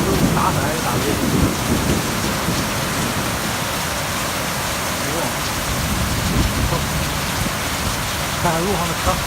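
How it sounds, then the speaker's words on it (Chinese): Sudden thunderstorm with heavy rain and hail, heard from a roadside pavilion, a loud, dense, unbroken roar of downpour with low rumbling throughout. "在我们这里的今天突然来临一场暴风雨，然后下来了冰雹"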